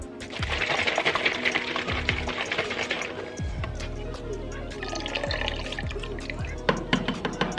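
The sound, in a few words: black RIT synthetic dye being added to water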